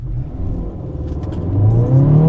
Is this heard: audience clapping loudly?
no